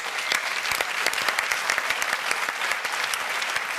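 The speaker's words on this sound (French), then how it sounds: "on vous applaudit." A quiz show studio audience breaks into steady applause, dense hand clapping sustained at an even level throughout with no talk over it.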